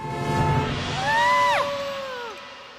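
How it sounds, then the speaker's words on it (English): Two voices scream together in a children's English story when something suddenly jumps out from behind a big rock: a loud, sustained cry that rises and then falls away over a couple of seconds. "They both screamed."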